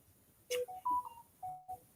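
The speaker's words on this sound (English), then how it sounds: "I always get the notification through on my phone as soon as I start a live." A phone notification chime plays a short run of bright electronic tones in a rising then repeating pattern, clear and close against a quiet room.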